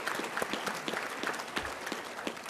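Another round of applause from a crowd at a spring 2022 graduation ceremony, quiet and distant, a steady patter of clapping with individual claps standing out.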